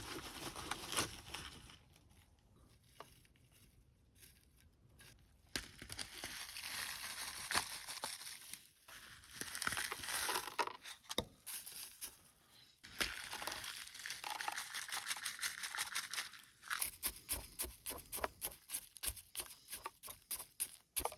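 Potting soil scooped and pressed around a Christmas cactus being repotted, heard as soft, close crinkling, crumbling and pattering in irregular bursts with quiet pauses between.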